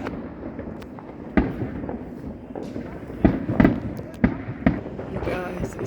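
Fourth of July fireworks going off around a residential neighborhood at night give several sharp, booming bursts and pops at irregular intervals, some near and loud, while people talk throughout.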